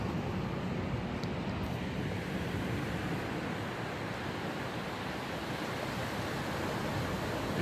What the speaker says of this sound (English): Just that silence and the waves breaking.